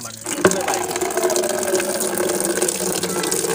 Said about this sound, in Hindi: ये देखिए अब देखें कैसे स्पीड से पानी आया,